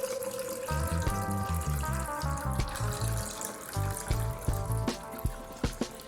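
Water is poured into a Kangen SD501 water ioniser during a deep clean, a steady running and filling sound with small clinks and splashes, moderately quiet and without talk.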